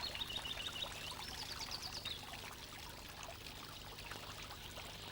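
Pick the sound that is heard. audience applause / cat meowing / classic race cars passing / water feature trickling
water feature trickling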